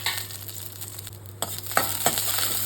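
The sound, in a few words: chopped green chillies frying in oil in a pan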